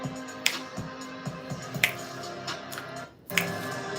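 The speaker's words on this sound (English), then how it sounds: "Just snapping my fingers." Crisp finger snaps, a few spaced single clicks close by and fairly quiet, with no talking.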